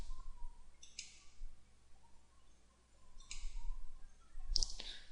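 A few crisp computer mouse clicks at close range while setting table borders in Excel 2010, with a brief sharp click cluster near the end over a quiet background.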